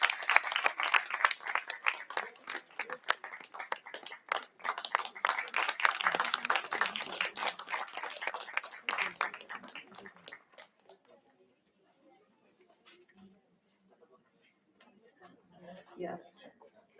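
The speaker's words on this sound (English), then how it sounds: "May we please have a huge round of applause for each and every student" Audience applause honouring student volunteers at the close of a heritage management conference, dense clapping for about ten seconds that thins out and fades into a quiet room with faint scattered noise.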